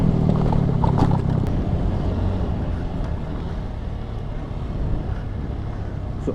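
A KTM Adventure 390 motorcycle riding on the road between Vashi and Panvel, giving a steady engine drone with heavy wind rush, slightly louder at first and then holding level.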